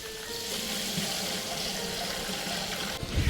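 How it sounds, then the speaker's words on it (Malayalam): Water runs steadily into a cooking pot holding capsicum and chicken, a continuous close pouring rush that ends with a clunk. "നമുക്കിനി വെള്ളം ഒഴിക്കാട്ടോ ഇതിനകത്തോട്ട്."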